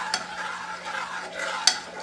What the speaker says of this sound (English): So you just want to keep stirring.